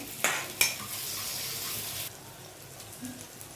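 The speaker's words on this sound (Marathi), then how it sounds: "टॅमॅटो थोडं फ्राय करून घेते" Tomatoes and onion fry in a pan for masoor dal, giving a steady broadband sizzle with a couple of sharp clinks of a utensil against the pan early on, then easing to a quieter hiss.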